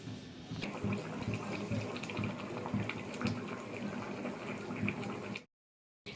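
Tarka curry bubbles steadily in a pan, a continuous close, dense simmering hiss with soft popping that runs for about five seconds, then cuts off into a brief silence.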